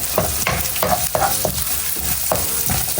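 Onions saute in hot oil for ginisang pako, a loud, close sizzle punctuated by rhythmic scraping and tapping of a spatula against the pan.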